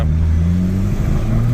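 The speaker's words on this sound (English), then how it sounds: "So there's a little bit of misfiring. Second gear pull, go." A car accelerates hard in second gear with a slight misfire, its engine a loud, close, steady mid-pitched roar with rising harmonic tones through the pull.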